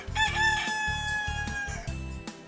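A rooster crows once, loud and close, its drawn-out call rising and falling over a couple of seconds with other fowl clucking low underneath.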